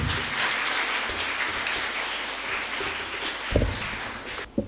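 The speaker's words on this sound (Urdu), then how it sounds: "تالیوں کی گونج میں" Crowd applause at a school Defence Day assembly in Pakistan, steady clapping from a large audience that fills the whole stretch, with a couple of louder thumps near the end.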